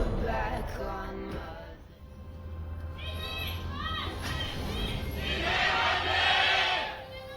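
A large esports arena crowd at an LCK League of Legends match roars and chants in support of team CJ, swelling to a loud peak near the end, with a caster's voice running underneath.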